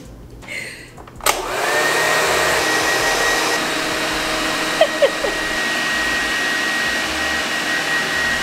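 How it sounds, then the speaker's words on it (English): A hooded hair dryer blows with a steady, loud whooshing roar after a click switches it on, with a few small knocks partway through. "So let's get under the dryer"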